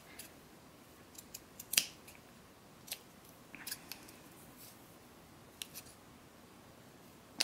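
Scissors snip through fabric trim in a series of quiet, close, crisp cuts at irregular intervals, with faint rustling of the material between snips and no talking.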